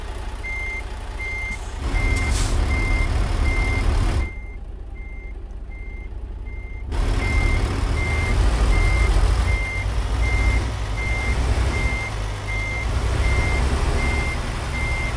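Truck reversing alarm in the American Truck Simulator game, a steady loud series of regular beeps over low engine rumble as a short-trailer rig backs up, with a brief quieter gap midway.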